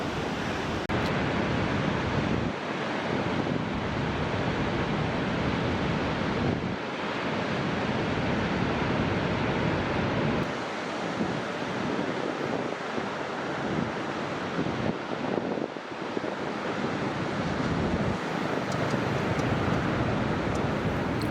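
Ocean surf rolls and breaks continuously at an uncrowded Moroccan point, a broad steady roar with swelling surges and some wind rumble across the mic, no voices.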